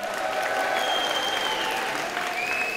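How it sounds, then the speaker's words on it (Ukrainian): Concert audience in Chernivtsi giving a loud ovation, sustained crowd clapping with a few whistles cutting through the steady wash of applause. "І під ваші гучні овації я хочу запросити нашого рідного, всіма любимого Михайла Грицкана."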